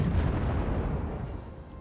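Units fire their weapons in the war game Wargame AirLand Battle, heard as a heavy artillery-like blast fading out as a rolling rumble.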